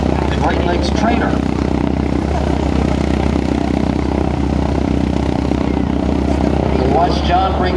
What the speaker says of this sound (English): Watch John bring in that Waco YMF.